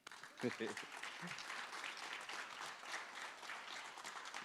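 Audience applause for an MVP student athlete at a school college signing ceremony, a faint, distant spatter of clapping that starts with a couple of brief voices and then holds as a soft, continuous patter.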